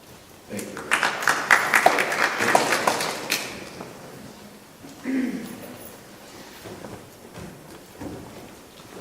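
An audience at a Ward 13 candidates meeting gives a short burst of clapping for the candidates. The applause fades after a few seconds into quieter room noise and scattered sounds.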